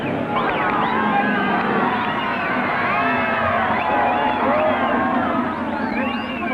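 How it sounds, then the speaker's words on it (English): Large crowd in Kampala, capital of Uganda, cheering and shouting continuously as cars arrive for the 1972 East African Safari Rally, a dense roar of many voices with whoops rising above it throughout. "The biggest cheer, of course, is for local hero Shaker Mehta"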